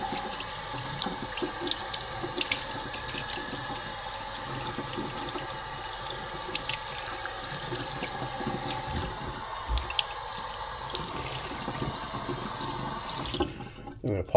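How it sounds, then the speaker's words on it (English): Tap water runs steadily into a sink, rinsing brining solution off a smoked goat ham, a constant close splashing stream with small irregular spatters as the meat is turned under it, stopping near the end. "it's just a matter of rinsing off all the brining solution"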